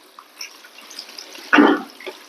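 Cut taro stalks are rinsed under running water, with faint trickles and drips at first, then a brief louder splash and gush partway through, fading back to light dripping.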